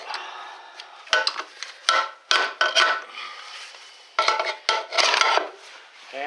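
Metal scrapes, knocks and rattles come in irregular bursts as a hammer pries and yanks the pump out of a Ford 4R70W transmission. The work sounds close, with short gaps of quiet between the efforts.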